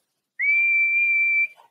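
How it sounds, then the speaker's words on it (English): A person whistles a single steady, high note for about a second, clear and close, against an otherwise silent background. "What's whistling anyway? You put your lips together and blow."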